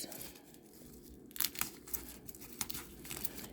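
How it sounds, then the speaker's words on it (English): Plastic wrapping crinkles and tears as it comes off the straps of a Dooney & Bourke Small Celeste satchel in coral with braided leather, in a run of close, irregular rustles that grow louder after the first second. "So we are going to unwrap the straps."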